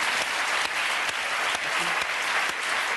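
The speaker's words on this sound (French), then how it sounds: "Je demande d'applaudir Jeff encore." Loud, dense applause from a television studio audience for ventriloquist Jeff Panacloc, a continuous wash of many hands clapping throughout, with no voices on top.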